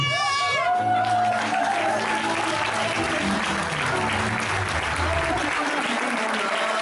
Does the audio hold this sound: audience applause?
yes